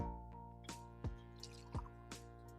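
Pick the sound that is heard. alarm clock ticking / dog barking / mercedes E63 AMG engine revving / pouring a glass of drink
pouring a glass of drink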